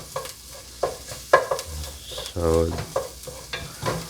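Garlic frying in a pan is stirred with quick scraping strokes over a soft sizzle, close and intermittent, with a brief spoken word.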